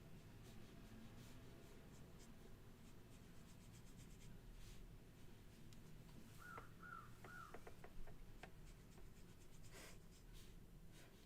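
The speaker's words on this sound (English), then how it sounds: "Did you guys hear the crow?" A crow caws outside, faint and distant, giving two or three short calls partway through, over a constant low room noise and close scratching of a pen or brush on paper.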